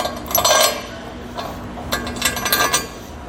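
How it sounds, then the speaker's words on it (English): Metal bolts dropped one after another onto a Demco trailer spare tire mount, giving a few short, bright clinks and rattles close to the microphone, with no talking. "go ahead and drop the bolts for now."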